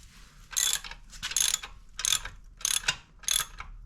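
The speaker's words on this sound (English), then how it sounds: "Y'all are gonna need a 14mm socket." A ratchet fitted with a 14mm socket tightens a bolt on a Tao Tao DB10 dirt bike, giving five close, crisp bursts of clicking in a steady rhythm with short pauses between strokes.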